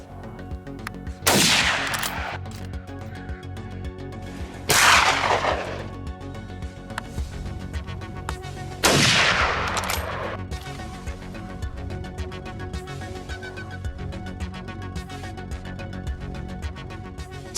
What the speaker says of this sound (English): The farmer grabs a .38 108 rifle loaded with heavy gauge bullets to dispatch them